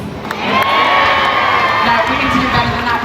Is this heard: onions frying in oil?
no